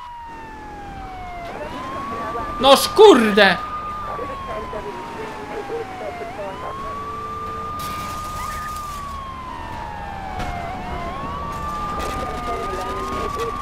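Police sirens in Grand Theft Auto III wail in repeated rising and falling sweeps over a low road rumble, with a man briefly exclaiming loudly early on.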